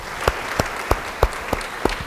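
A church congregation claps in unison during a sermon, about seven sharp, evenly spaced rhythmic beats in quick succession over a hum of room noise.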